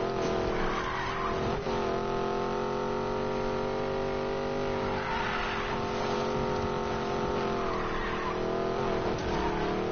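A car in a video game drives and skids, its engine holding a steady droning tone while tires squeal across the surface, loud and continuous for the whole stretch.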